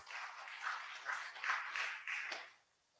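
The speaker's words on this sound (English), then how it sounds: "Let's give him again another round of applause" Faint, distant audience applause at a holy day ceremony, a soft wash of clapping from many hands that swells and fades out after a couple of seconds.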